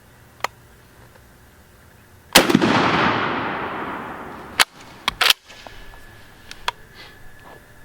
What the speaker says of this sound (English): So got my turkey shell here, put it in the gun, see how tight the pattern is.